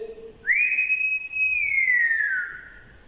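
A single clear whistled tone rises sharply, holds steady, then glides slowly downward before stopping, close and loud against a quiet room during a ghost hunt in an old theatre.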